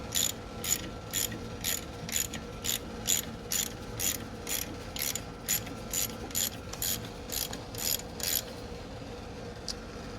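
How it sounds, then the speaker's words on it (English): A ratchet cranks a bolt to pop a part off a 2016 Shelby GT350 engine under rebuild, producing regular bursts of sharp, close ratcheting clicks that repeat steadily and stop near the end. "it's just a matter of cranking this until she pops off"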